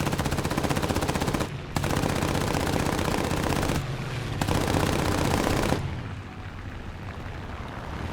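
Rapid, continuous bursts of machine-gun fire from an A5M4 fighter in War Thunder air combat, loud and dense with two brief pauses, then a fading roar of the engine after the last burst.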